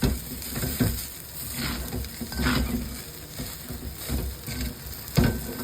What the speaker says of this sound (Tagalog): haluin natin yan para magsama-sama lahat ng nilalagay natin